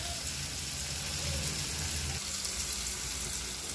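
Drumstick, brinjal and potato pieces frying in oil in a pan, a steady soft sizzle and crackle that stays even and fairly quiet throughout, with no talking.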